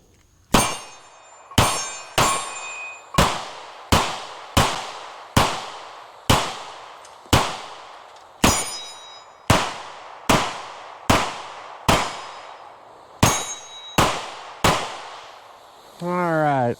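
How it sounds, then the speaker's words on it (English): A CZ Shadow 2 pistol fires about sixteen sharp, loud shots at an uneven pace, each report ringing briefly before the next. A short burst of other noise closes the string. "let's go ahead and pop some more rounds down here"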